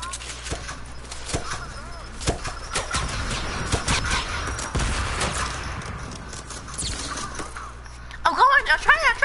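Rapid bursts of gunfire from shooting in a PS4 video game crackle almost continuously, mixed under lively talk from players.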